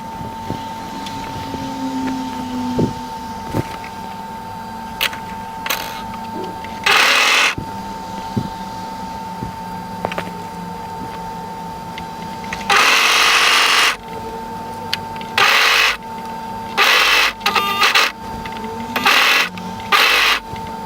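A home sewing machine stitches a sleeve seam on a hooded A-line button-up jacket in loud, close bursts of whirring motor, each run starting and stopping abruptly, with quieter handling sounds and a steady hum between them.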